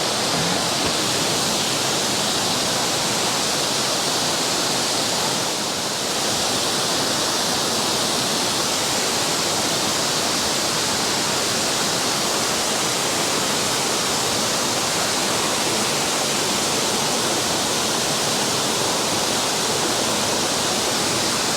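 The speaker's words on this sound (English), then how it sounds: "this is 94-foot waterfall. It's the main attraction here" Broad, steady roar of a 94-foot waterfall on the Falls Trail at Ricketts Glen State Park, heard up close as a continuous wash of falling water with no voices over it.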